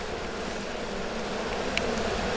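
Stingless bees drone at a hive's honey super, a steady soft buzzing hum that stays even and close throughout with no voices.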